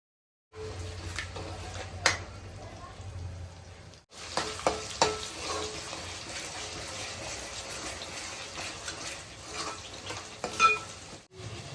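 Masala for a sea bass fish curry fries in oil in a pan. A steady close sizzle runs throughout, broken by stirring scrapes and a brief pause. No one speaks.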